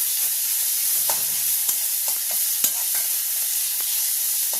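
Onion, tomato, beans and carrot fry in a pan with curry leaves and dried chillies, a constant hissing sizzle broken by occasional light clicks of stirring, close and steady without speech.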